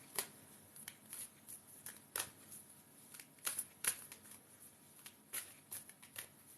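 Tarot cards are shuffled close by in a quiet room, giving a string of soft riffling snaps and slaps in irregular bursts; no one speaks.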